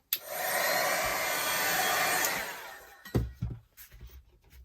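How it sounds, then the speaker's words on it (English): A heat gun blows steadily for about three seconds, drying a watercolour painting's inky background, then cuts off, leaving a few soft knocks and handling sounds. "give that just a first blast with the heat gun"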